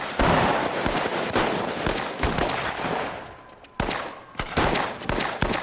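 Gunfire cracks out in a television crime drama, a fast irregular barrage of sharp, loud shots spread through the scene, some in quick bursts and others single, with a brief lull in the middle.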